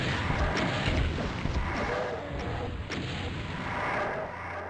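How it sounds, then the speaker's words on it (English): Heat-seeking missiles fired by Revenants in the video game Scythe 2, heard as a dense, continuous roar of booming blasts and rumbling explosions, close and loud throughout with no voices. "Have to know how to dodge their missiles, the heat-seeking ones."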